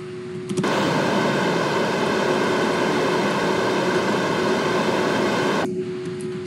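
A plane flying in Kerbal Space Program gives a steady, loud, airy engine drone with a constant hum, starting abruptly and cutting off after about five seconds.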